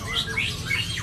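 A sogon songbird gives harsh, scratchy squawks in several quick bursts over a steady low background rumble, close and fairly loud.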